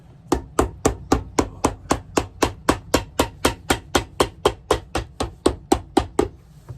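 Steady hammering on Crockett & Jones boots during a size change, about twenty sharp, evenly spaced blows repeating roughly three times per second, close and loud with no talking.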